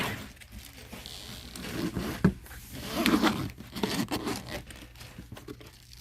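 A zipper runs on a brand new pink and white beauty box, giving a scratchy, crinkly rasp with a few louder pulls over several seconds, heard close up with no talking.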